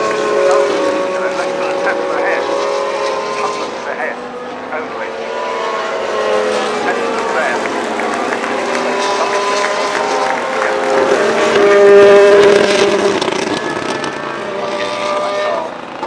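A Formula 1 car at Silverstone in qualifying, its high-pitched engine whining and shifting pitch as it passes, with a commentator talking over it throughout.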